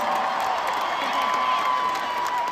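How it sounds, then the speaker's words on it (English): A large concert crowd at a show in Cleveland, Ohio claps and cheers in a steady, loud wash of applause with scattered whoops, filling the whole moment without letup. "round of applause for Chris"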